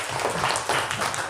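A classroom breaks into a short burst of dense clapping for a student group, steady and close throughout.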